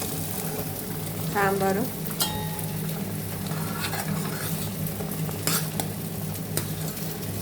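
Okra frying in a pan with salt, chili, turmeric and masala, a steady close sizzle with occasional scraping stirs and light clinks of the utensil.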